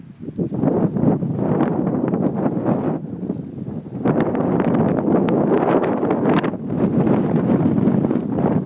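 Strong wind buffets the microphone in loud, roaring gusts by a river, rising and falling with brief lulls, outdoors with no talking.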